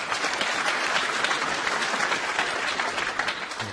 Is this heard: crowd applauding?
yes